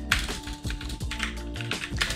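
Light tapping on a computer keyboard while entering commands on a new Linux server, a few quick clustered keystrokes in short bursts with pauses between, close and fairly quiet.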